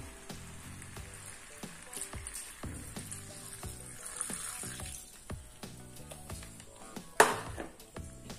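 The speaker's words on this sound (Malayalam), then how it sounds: "ഇനി നമുക്ക് കുറച്ച് കറിവേപ്പില ഇട്ട് കൊടുക്കാം. തേങ്ങാപ്പാലും ഒഴിച്ചു കൊടുക്കാം." Curry leaves and coconut milk go into a pan of frying chicken for a Kerala-style naadan chicken roast. A steady crackling sizzle is broken by scattered spoon taps and one sharp clink near the end, under soft background music.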